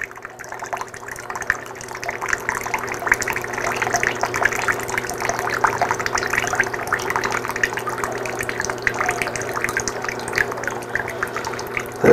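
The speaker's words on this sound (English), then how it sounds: "that water flows just a little bit too fast for me" Cooling water running through a 2-inch glass reflux column, a steady close trickling and gurgling flow with small drips, continuous and fairly loud throughout.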